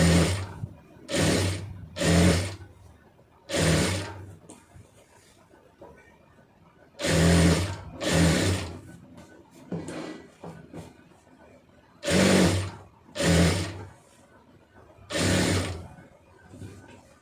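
A sewing machine runs in short bursts while stitching a blouse neck piece, about ten quick separate runs of close whirring with brief gaps, some grouped in pairs.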